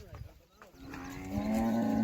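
A herd of buffaloes and cows: after a few soft lows, one animal lets out a long, deep bellow that swells louder toward the end, heard close by over faint outdoor background.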